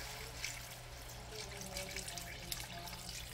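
Steady running water, 2.5 cups, pours into a pot, a continuous close splashing stream with a low background hum throughout.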